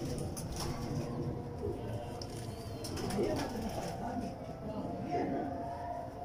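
Kamgar pigeons coo in soft, repeated low calls close by, with a faint flutter now and then, while someone talks over them.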